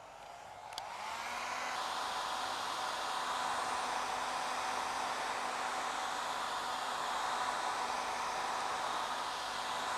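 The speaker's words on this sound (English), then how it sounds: "give this a little quick dry with the old hair dryer again" A hair dryer switches on to dry paint, blowing with a steady, loud whooshing hiss that stays constant to the end.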